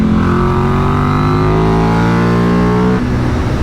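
A 2024 KTM RC 8C race motorcycle engine revs hard and loud up close, pitch climbing steadily through the gear before dropping off sharply near the end.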